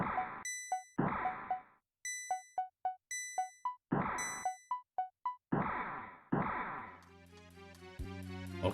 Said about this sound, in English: Ring the bell together in unison.